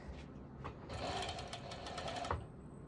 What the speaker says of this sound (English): I'm going ahead already and will be serging